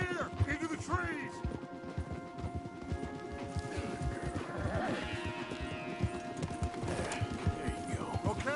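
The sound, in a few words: horses clip-clopping, from the video game Red Dead Redemption 2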